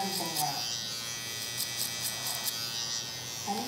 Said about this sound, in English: We got the new Wahl Hi-Viz trimmer.